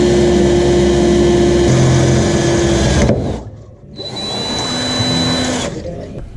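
A power drill bores holes through the steel floor of a BMW E30 during a 2JZ engine swap, whining loudly and steadily, pausing briefly around the three-second mark before starting again at a slightly different pitch.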